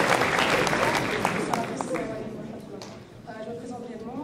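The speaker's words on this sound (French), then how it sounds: "Veuillez l'applaudir s'il vous plaît." Audience applause at a conference-debate on faith and reason, a dense patter of clapping that thins out over a few seconds, with some voices mixed in.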